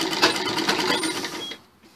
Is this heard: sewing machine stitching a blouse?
yes